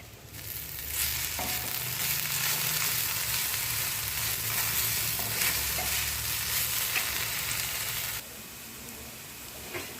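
A crushed ginger, garlic and coriander mixture fries with onion in a pan as a steady, dense sizzle with a few stirring scrapes, close, then drops to a softer hiss near the end.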